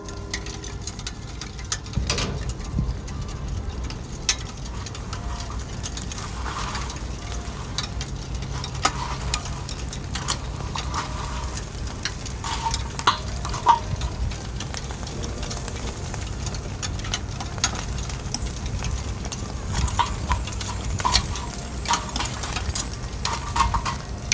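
A thick steak cooks directly on hot coals and gives off a constant, even sizzle and crackle for a long stretch, with occasional small ticks and pops.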